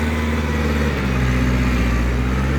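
A motorcycle engine fitted with the M5000 system runs steadily in a low, continuous rumble, close and loud, with the pitch shifting slightly partway through as the throttle moves, alone without talk.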